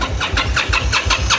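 Motorbike engine cranking on its electric starter after sitting unused for about two weeks, a steady repeating chug of about seven even compression pulses, close and fairly loud, with no voices.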